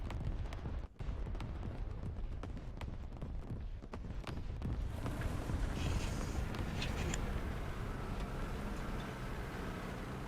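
Dense, continuous rumbling with repeated sharp bangs early on, tank battle explosions and gunfire in War Thunder blending into a roaring battle din.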